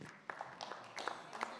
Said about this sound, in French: On applaudit une nouvelle fois nos 3 intervenantes.